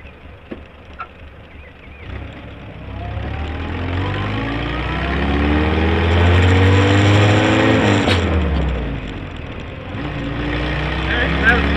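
A 1964 Jeep CJ-3B engine revs up loudly, climbing in pitch, then drops as it shifts from first to second gear before building again, with a rattly, rough tone.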